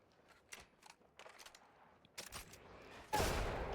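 Gunfire and a frag grenade blast in a competitive battle royale video game match: scattered quiet shots early on, then a denser burst, ending in a loud, sustained explosion.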